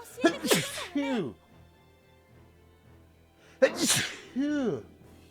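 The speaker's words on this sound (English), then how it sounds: "hold on, I'm going to sneeze." Two sharp, loud sneezes several seconds apart, each a quick burst followed by a trailing vocal exhale, close and clear.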